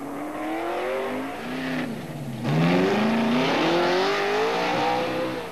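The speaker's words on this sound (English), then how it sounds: "The typically American stock cars with 5-liter engines that yield 400 to 500 horsepower." An American stock car with a 5-liter engine racing uphill, its loud engine note rising and falling through gear changes as it accelerates, close and continuous with no talk.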